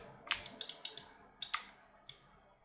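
Quiet, close clicks at a computer desk during 3D modeling work, about a dozen sharp taps in an irregular rhythm, some in quick pairs, with no talking.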